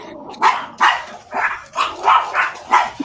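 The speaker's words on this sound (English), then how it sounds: "The dog's next door." A dog next door barks repeatedly, about seven loud, sharp barks in an uneven rhythm, fairly close and clear with no talking over them.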